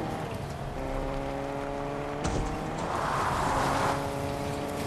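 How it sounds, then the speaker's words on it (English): A car engine drones steadily through a driving video game, a continuous mid-level motor hum with a brief bump partway through and no talking over it. "Hear a car? That's you,"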